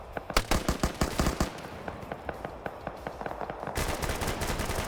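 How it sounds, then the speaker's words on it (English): Machine gun fire in an OFCRA PvP combat game match, rapid bursts of sharp repeated shots that run into a denser, sustained volley, loud and without talking. "Push him with the MG!"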